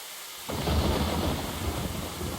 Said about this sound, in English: Lightning struck.